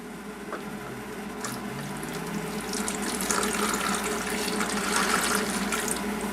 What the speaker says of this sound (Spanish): Vamos a añadir agua hasta que quede más o menos entre el máximo y el mínimo.